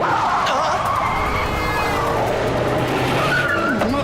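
Cartoon car driving roughly with tires skidding and squealing, a constant loud engine roar with wavering screeches layered over it throughout.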